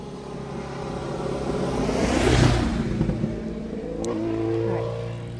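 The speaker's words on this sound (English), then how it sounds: "we've got another motorcycle coming, so we're going to have to be single file" A motorcycle approaches along a road and passes close by, its engine swelling to a peak around the middle and then fading away, with a brief high click near the end and no talk.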